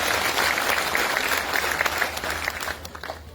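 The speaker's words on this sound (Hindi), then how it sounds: "एक बार जोरदार तालियां आप उनके लिए भी बजा दीजिए।" Steady, loud applause from an audience at a political gathering, continuous clapping that fades slightly at the end.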